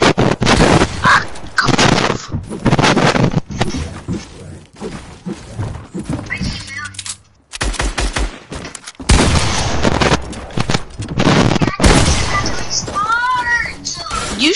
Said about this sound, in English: You start shooting at me.